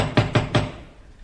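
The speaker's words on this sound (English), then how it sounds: "Bang on the door." Three sharp knocks on a door in an even rhythm, loud and close, used as a sound effect in a vintage radio comedy, followed by a short quiet decay.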